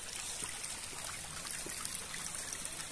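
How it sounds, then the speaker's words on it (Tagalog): A small stream trickles and burbles through forest land on a farm lot, a soft, continuous watery flow heard faintly at a distance with no voices over it. "Forest land. Ayan, may mga sapa, nature."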